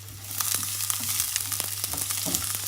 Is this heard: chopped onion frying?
yes